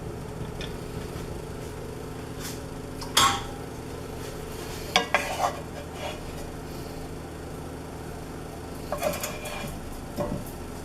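Sausage gravy being stirred in a pan over low heat, a spoon scraping and clinking against the metal a few times over a quiet steady background hum.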